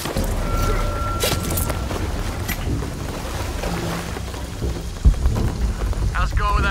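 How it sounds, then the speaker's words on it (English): Heavy rain pours steadily during a storm while thunder rumbles low, with a sharper crack about two thirds through; voices murmur faintly under the downpour. "the rain is gonna flood it"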